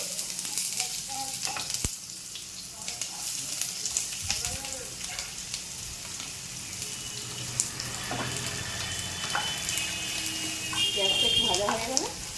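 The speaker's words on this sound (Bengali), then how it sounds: "তারপরে আমি পেঁয়াজ কুচি দিয়ে দিচ্ছি তাতে।" Chopped onion dropped into hot oil already tempered with cinnamon and whole black pepper, frying with a steady sizzle throughout, mixed with occasional water and utensil sounds from a home kitchen.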